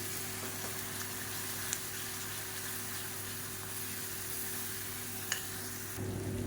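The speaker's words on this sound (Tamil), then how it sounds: "இப்போ இது எல்லாமே சேர்ந்து நல்லா அப்படியே பொரிஞ்சு வரணும்." Garlic and chutney ingredients sizzling steadily in hot oil in a pan, a continuous close frying hiss with a couple of faint clinks, no talking.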